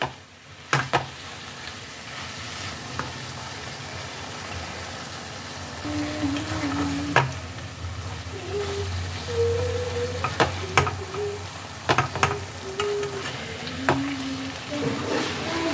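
Chicken pieces cook in a pan with very little oil, simmering in their own released water while being stirred. A soft, steady sizzle runs throughout, punctuated by sharp scrapes and clinks of the spoon against the pan.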